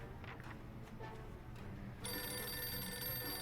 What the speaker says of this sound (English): Oh, we have a phone call.